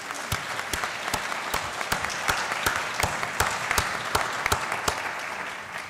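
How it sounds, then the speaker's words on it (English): An audience applauds at a 40th anniversary celebration, sustained clapping from a crowd with sharp individual claps standing out over a dense, even wash of hands, steady throughout without talk. "Let's give them a round of applause"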